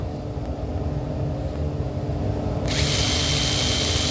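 A power drill whirs steadily up close, then bites into wood for a sash window with a harsher, louder grinding for the last second or so.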